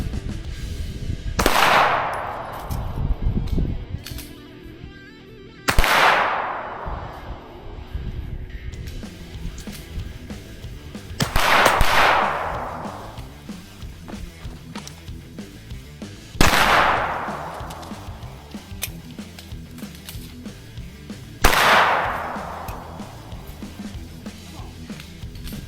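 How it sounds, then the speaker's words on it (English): A Staccato XC pistol fires five widely spaced, sharp shots at steel targets, each crack followed by a ringing metallic decay, loud and close, with about five seconds between shots and no talking. "Shoot some steel."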